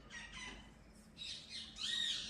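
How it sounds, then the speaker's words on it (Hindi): Peacocks and pigeons call from a large rooftop where thousands of birds gather at a devotional site. A few harsh, squawking cries are heard in short bursts, fairly faint and with no talking. "मोर कबूतर।"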